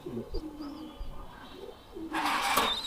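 Pigeons, including a red-geared fancy pigeon, coo softly in a loft, with faint low calls over quiet background noise and a brief rustle near the end.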